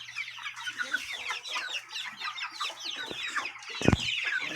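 An Asil stag rooster with a parrot beak and long tail clucks repeatedly at close range on a farm, then gives a brief loud crowing burst, with soft chick peeps and little talk around it.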